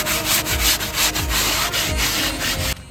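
A car wheel hub on a Škoda Superb MK2 is scrubbed with brake cleaner in rapid back-and-forth rubbing strokes, close and loud, stopping abruptly near the end.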